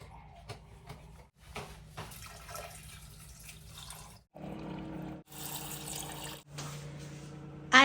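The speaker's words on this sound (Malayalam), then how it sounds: "അത്യാവശ്യം വെള്ളം ഒഴിച്ചു കൊടുക്കാം" Water is poured from a glass into lentils in a cooking pot, a close splashing and gurgling pour that comes in short bursts separated by brief pauses, with quieter handling sounds before it.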